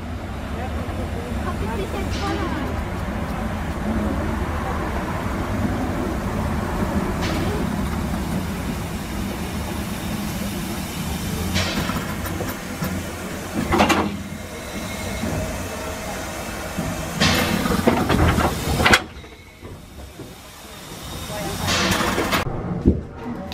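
A Weißeritztalbahn narrow-gauge steam train departs for Freital-Heinsberg, with rolling rumble, hissing steam and louder chuffing bursts rising toward the end, under someone narrating.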